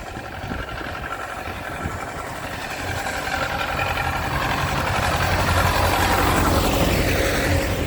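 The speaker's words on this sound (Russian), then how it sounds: "Сейчас трактор еще почистит." A tractor engine runs while clearing snow along a riverside embankment on a windy winter morning, a steady low idling drone under broadband wind noise that gradually grows louder, with no talk.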